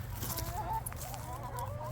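Backyard chickens, a flock of three hens, cluck softly and continuously inside their coop, a steady low murmur of fowl sounds with no talking.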